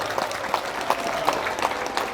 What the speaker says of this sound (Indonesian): Tepuk tangan untuk Indonesia tercinta.